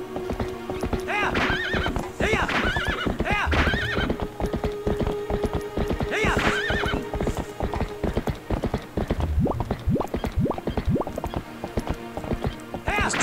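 Epona the horse gallops in Zelda: Twilight Princess, with steady clip-clop hoofbeats and a couple of loud neighs and whinnies over continuous game music and ambience.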